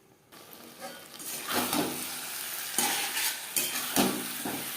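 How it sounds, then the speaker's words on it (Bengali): Gobindobhog rice being stirred as it fries in a pan, a sizzling crackle broken by several rhythmic scraping sweeps of the spoon that swell and fade, close and moderately loud, starting from near silence. "2-3 মিনিট নাড়াচাড়া করে নেব। গোবিন্দভোগ চাল বা যে কোনো চাল যদি অনেকটা সময় ধরে ভাজা হয়"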